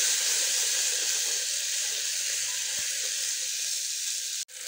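Tomato frying with onions in a pan, giving a steady loud sizzle and hiss throughout with a faint stirring scrape, close up and with no voices.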